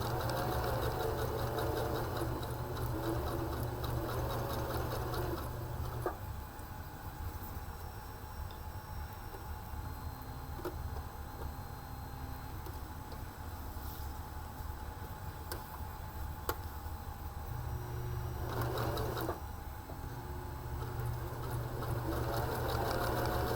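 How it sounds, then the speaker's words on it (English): A Baby Lock sewing machine stitches and backstitches fabric with a steady mechanical whir and rapid needle ticking; the drive eases to a lighter, slower run through the middle before resuming full speed. "We are going to not forget to backstitch."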